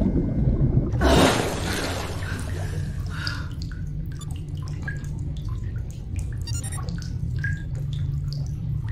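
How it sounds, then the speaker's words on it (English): Water drips and trickles steadily inside the underwater VR game Freediver, with scattered close drops and splashes over a constant low watery rumble, and a brief louder surge near the start. "You can hear all the water dripping down as well."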